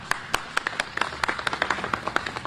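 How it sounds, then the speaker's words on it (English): Sparse applause from a small press-conference audience, about a dozen and a half distinct hand claps spaced irregularly, fairly quiet against a low room background. "Let's bring her on with a round of applause."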